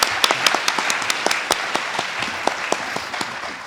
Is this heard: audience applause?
yes